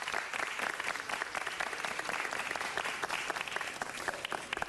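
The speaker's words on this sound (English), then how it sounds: "Let's give him another round of applause." Sustained applause from an audience at a city council meeting, dense and steady throughout with no talk over it.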